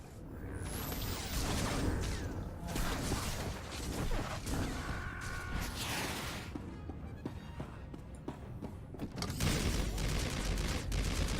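Blaster fire in the game Star Wars: The Old Republic, with repeated volleys of shots, impacts and whooshing effects at fluctuating loudness, dropping to a lull midway before another heavy burst.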